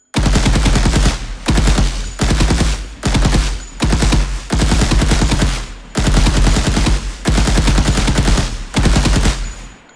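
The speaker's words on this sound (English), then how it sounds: "in this episode I'm going to implement this bullet shells going out from the gun mechanism" Loud automatic gunfire from a weapon with ejecting bullet shells in an Unreal Engine third-person shooter game, fired in about nine rapid bursts separated by short gaps, close and alone.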